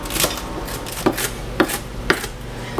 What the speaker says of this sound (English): So I'm gonna chop these up nice and fine.